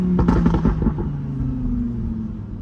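An Audi R8 Spider convertible engine rumbles while driving, with a burst of sharp crackling pops at the start that settles into a steady low drone.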